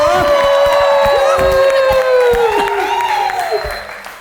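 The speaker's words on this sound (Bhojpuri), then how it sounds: "डिम्पल सिंह जी के स्वागत के साथ सीटी ताली बजाओ।" A talk show studio audience claps loudly and continuously to welcome a guest, with several sharp whistles rising over the applause before it starts to fade.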